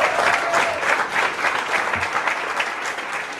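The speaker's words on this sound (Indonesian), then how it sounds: "Kita berikan tepuk tangan yang paling meriah secara virtual dan secara langsung di Mandalika." Audience applause at the Karya Kreatif Indonesia 2021 opening event in Mandalika, Lombok, a dense, steady burst of many hands clapping at moderate loudness with no talk over it.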